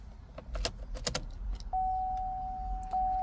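A car key jangles and is pushed into the ignition of a General Motors vehicle. The ignition is then switched on, and a steady electronic tone starts and holds.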